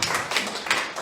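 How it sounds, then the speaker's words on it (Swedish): Audience applause at a church gathering, a dense wash of many hands clapping that swells in short pulses, loud and close, with no voices. "Applåd igen för alla, tycker jag."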